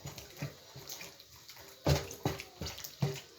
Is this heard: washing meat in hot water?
yes